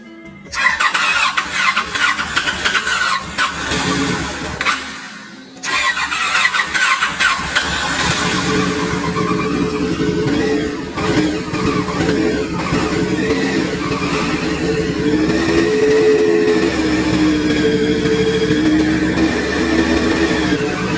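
A rebuilt Yamaha SR600 engine cranks with a whining starter, briefly cuts out, then catches and settles into a close, continuous running rumble with a faint squeal.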